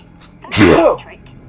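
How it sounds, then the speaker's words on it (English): A single sharp human sneeze bursts out loud and close, a brief explosive release amid quiet surroundings. "It's my nose. Having a bit of a sneeze."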